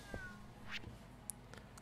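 Cat meows from the cat cafe in the video game Yakuza 6, a few short, fairly faint mews spaced through a brief stretch over a low background hum.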